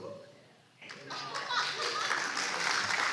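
A church congregation breaks into applause after a quiet pause, the clapping swelling from scattered hands into a full, sustained round with some voices mixed in.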